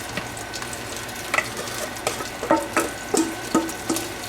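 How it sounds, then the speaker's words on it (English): Potatoes fry in a hot pan while a spoon stirs them, giving a steady sizzle under a run of sharp scraping knocks that come irregularly and then faster, close by. "dump our potatoes in here and let those cook"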